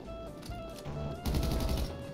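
Bursts of automatic gunfire in a GTA V Online deathmatch, with short volleys that grow into a louder, denser barrage partway through, over game background sounds.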